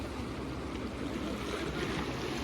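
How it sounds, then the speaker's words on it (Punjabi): Water from the Beas river, swollen by a dam release at Talwara, rushes against an embankment reinforced with stone-filled sacks, a steady, close, churning roar with no break. "ਤੇ ਪਾਣੀ ਦੇਖੋ ਕਿੱਦਾਂ ਵੱਜਦਾ ਜਾ ਰਿਹਾ"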